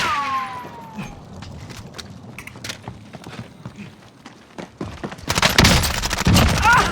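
Gunfire in the Modern Warfare video game: scattered sharp shots and footsteps at first, building into a heavy, loud burst of rapid fire near the end, with game chatter faintly mixed in.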